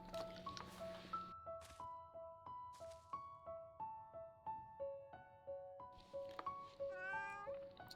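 Short, bright meows from a cat in the video game Little Witch in the Woods repeat at a steady rhythm over a gentle musical backdrop with rising chime tones near the end.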